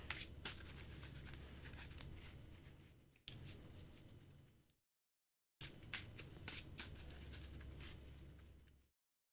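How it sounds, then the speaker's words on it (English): Magic: The Gathering cards are shuffled in two riffling bursts split by a short pause, a dense close papery rustle and flutter with a few sharper snaps, with no talking. "I should probably shuffle this pile as well."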